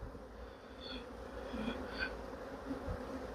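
Honeybees buzzing steadily at an open hive during a nuc-building inspection, a dense continuous drone with a few louder individual bees passing close by.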